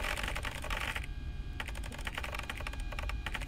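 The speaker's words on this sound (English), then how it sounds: "Speed typing, let's go. Watch this." Fast typing on a computer keyboard: a dense, rapid stream of close key clicks with a brief pause partway, then continuing, busy and steady throughout.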